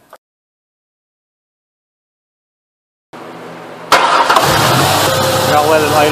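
After a silent pause, a Ford Ranger pickup with a misfire cranks and fires up, then settles into a loud, steady idle that carries on to the end.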